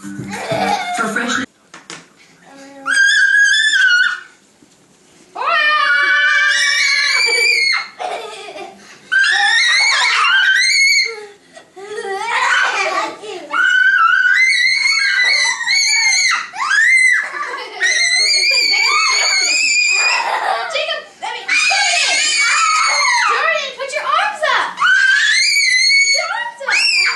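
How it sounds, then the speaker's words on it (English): A child screams loudly and repeatedly in long, high, piercing bursts with brief pauses between them, continuing for almost half a minute. "stop screaming"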